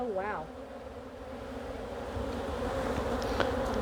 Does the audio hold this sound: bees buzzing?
yes